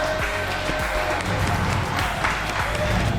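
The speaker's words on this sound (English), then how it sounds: "Big round of applause in the house for Teufel Sheufel, huh?" Crowd applause in a bar hall during a shuffleboard league match in Brooklyn, steady clapping and cheering mixed with lively chatter and voices, fairly loud and continuous.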